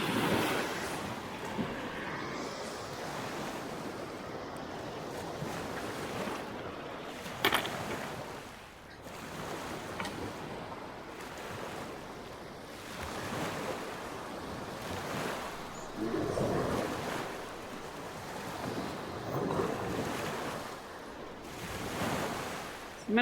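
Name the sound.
Lake Michigan waves washing on a rocky beach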